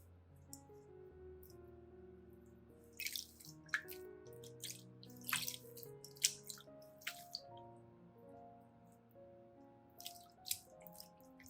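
A hand swishes fresh dill around in a bowl of water, giving soft irregular splashes and drips, close and fairly quiet, with a humming tonal background underneath.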